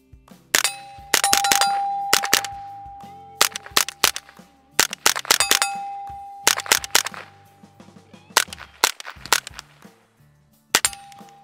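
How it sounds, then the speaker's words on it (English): A suppressed AR rifle converted to .22 firing outdoors: a series of sharp, close cracks with metallic clanks, in irregular bursts of single shots and quick doubles over about eleven seconds. "Let's go ahead and shoot this thing."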